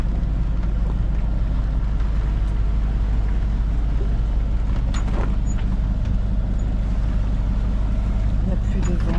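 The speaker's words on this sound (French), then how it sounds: "On est au moteur, il n'y a plus de vent." Sailboat crossing under engine power in calm morning air with no wind, a steady loud low diesel drone and rumble throughout, with faint water and wind noise and occasional talk underneath.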